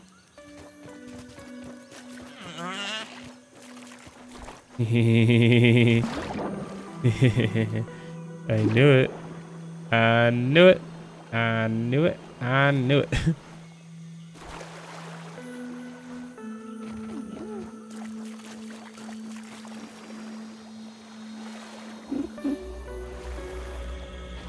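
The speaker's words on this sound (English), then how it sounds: "It was a wolf spider." A wolf spider creature in the survival video game Grounded gives a run of loud, harsh, rasping bursts in the middle of the stretch, with someone talking before and after.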